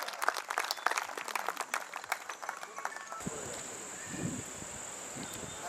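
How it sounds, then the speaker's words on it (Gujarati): An audience at a student alumni gathering at a hotel claps in a crowd of quick, scattered claps for about three seconds. The applause then fades into a quieter murmuring room with a faint steady hiss. "ભગવા ફેટાધારીને આપણે માઇક આપીએ તમારી પ્રચંડ તાળીઓના નાદ વચ્ચે"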